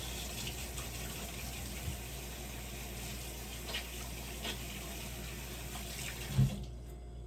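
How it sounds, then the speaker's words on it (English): Water runs steadily from a kitchen tap as hands are rinsed, a soft continuous splash with a few small knocks, then it shuts off abruptly near the end. "Let me do a quick rinse of the old hands"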